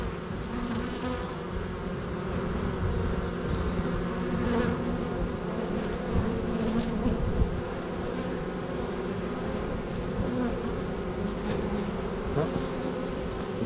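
Dense, steady buzzing of a honeybee colony at an open hive during an inspection, many bees droning together close by with no pauses or voices.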